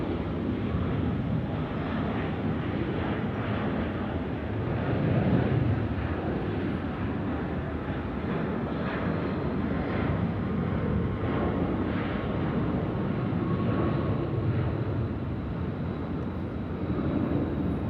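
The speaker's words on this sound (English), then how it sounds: "We've got a 146 service departing to Melbourne in that of Qantas 7293. It's a BAE 146. We call it the 4-burner." A Qantas BAE 146 four-engine jet takes off from Sydney Airport at night, its engines a loud, steady roar with low rumble that swells slightly and holds for the whole stretch, with no talk.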